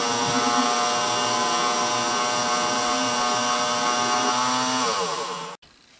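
Small Unimat lathe taking a turning cut on a tiny steel workpiece with a 1/4 inch square right-hand turning tool, a steady close motor whine with harmonic tones that runs evenly, then stops abruptly near the end.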